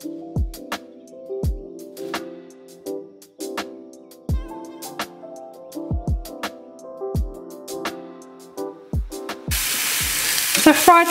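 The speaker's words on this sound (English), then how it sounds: "I'll just add in the courgette and the mushrooms. And I'll just fry that off" Courgette and mushrooms frying in a pan, a steady sizzle broken by repeated clinks and scrapes of stirring, close and fairly loud, with no voices.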